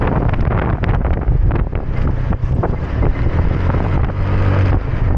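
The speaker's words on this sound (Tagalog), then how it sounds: "Lakas ng hangin mga sipag." Strong wind buffets the microphone in a steady, loud roar during a solo long ride from Lilo-an toward San Francisco, Southern Leyte, with no voices.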